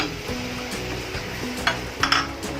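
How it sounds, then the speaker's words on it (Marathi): Sugar and milk are stirred in a pan while heating into syrup, giving a soft continuous scraping and bubbling with a few sharp utensil clinks against the metal near the end. "आपण ही सारखी हलवत राहू म्हणजे ती विरघळेल"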